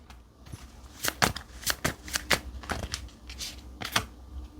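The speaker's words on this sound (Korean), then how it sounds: "제가 조언 카드 마지막으로 하나 뽑아 드리겠습니다" Tarot cards are shuffled and drawn in a series of crisp, riffling flicks and slaps, fairly close and irregularly spaced, with no talking.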